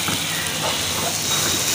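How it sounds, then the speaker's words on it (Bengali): Onions frying in a pan as a Bengali dried-fish bhorta is prepared, giving a continuous loud hissing sizzle without pause. "তো পেঁয়াজটাকে উনি ভালো করে ভেজে নিচ্ছে।"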